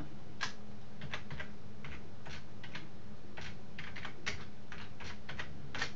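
Someone types steadily on a computer keyboard at close range, producing a quick, irregular run of soft key clicks and taps with no voices.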